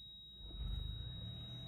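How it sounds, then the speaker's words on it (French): A 2006 Toyota Highlander hybrid's engine starts when the accelerator is pressed. A low rumble swells in after a quiet moment and then settles into a steady idle, close by. "Vous avez vu, le moteur est démarré."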